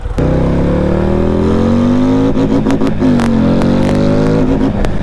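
A 2026 Harley-Davidson Street Glide with a 135 cubic inch stage 4 engine revs loudly and close by, its pitch climbing and dropping in several throttle bursts.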